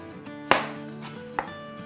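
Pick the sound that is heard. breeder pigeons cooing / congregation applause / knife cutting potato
knife cutting potato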